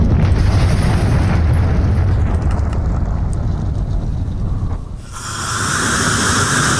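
Missile explosion from the contagious missile in the Voltz mod for Minecraft, a loud, sustained roaring blast that dips briefly, then swells again into a bright, hissing rumble.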